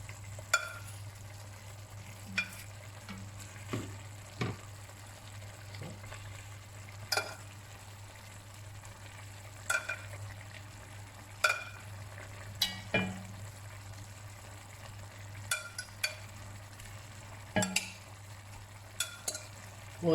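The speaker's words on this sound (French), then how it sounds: "je baisse le feu, j'intègre ma viande" Meat sizzles gently in a pan on lowered heat while a spoon scrapes and stirs it, scattered sharp clinks and scrapes recurring every second or two over a soft steady frying hiss, no talk.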